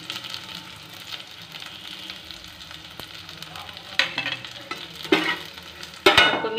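Green chillies frying in a pan on low flame as spice mix is stirred in, a continuous quiet sizzle with spoon scrapes and a few louder clacks and bursts toward the end.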